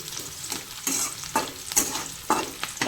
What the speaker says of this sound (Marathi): कांदा चांगला तळून घेऊया